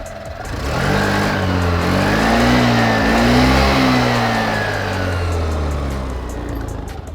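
Honda Grazia BS6 125 scooter with a side-hung single-barrel exhaust, idling and then revved through several rising and falling throttle blips, steady engine drone close by with no talking.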